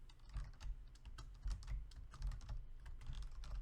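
Typing on a computer keyboard, a steady run of quick, soft key clicks close up with no voices.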